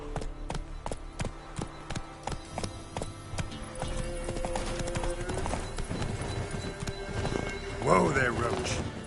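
Roach the horse galloping in The Witcher 3, rhythmic hoof clip-clops close by that quicken into a run, with a whinny near the end over game music.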